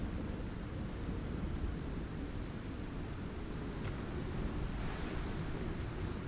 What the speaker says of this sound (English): Let's just step out of the storm.